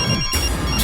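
A telephone rings in a tense action scene from a South Indian film dubbed in Hindi, its steady electronic tone filling a short burst alone with no voices over it.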